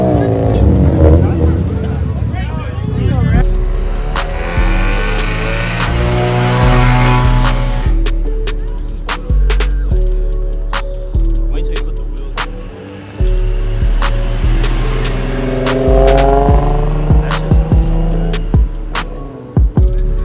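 A Nissan 350Z and a Honda Civic race, their engines revving loud and close, with rising and falling pitch sweeps as they accelerate through gears and pass by, while people talk over the noise.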